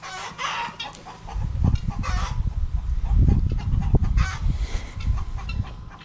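Peacocks, peahens and other fowl make a mix of clucking and calling: bursts of low clucks and a few sharper cries come from close by, with scattered rustling and no voices.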